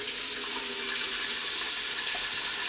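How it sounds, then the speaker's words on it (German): Warm water running from a tap to clean a silicone shisha hose, a steady, even hiss of flowing water holding at the same level throughout with no voices. "Dann hauen wir jetzt Wasser rein. Machen wir natürlich gleich warm."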